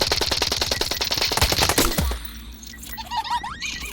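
Rapid automatic gunfire from a shooting video game rattles in a dense burst for about two seconds, then stops, leaving quieter game sounds and faint chatter.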